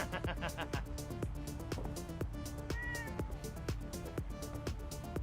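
A cat meows in the video game Fallout 4, its brief cries rising over loud, rhythmic in-game music in a bar setting.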